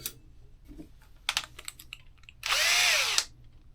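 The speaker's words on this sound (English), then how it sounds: "So we'll get this pilot hole drilled" A drill bores a pilot hole into a pipe for an Alaskan mill oiler modification: a loud, close burst of roughly a second with a pitch that dips then rises. It is preceded by scattered clicks and handling taps.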